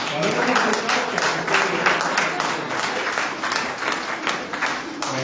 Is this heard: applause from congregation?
yes